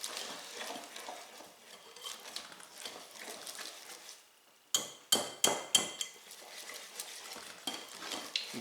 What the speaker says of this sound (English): The directions said to whisk until smooth